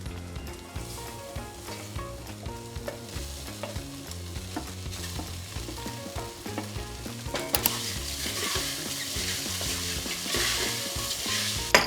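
Sago pearls stirred into frying, crunchy potatoes in a pan for green sabudana khichdi, with steady close scraping of a spoon over a constant sizzle that grows louder and brighter in the last few seconds.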